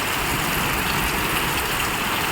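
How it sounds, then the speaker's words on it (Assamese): Heavy rain pours onto a home courtyard in a dense, loud, unbroken hiss that fills the whole moment, with no voices. "এনেকুৱা বেয়া বৰষুণ দিছে নহয় আজি"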